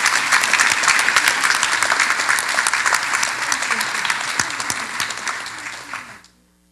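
Sustained audience applause at a high school scholarship night for award winners, a dense, even wash of clapping from a large crowd that fades out near the end.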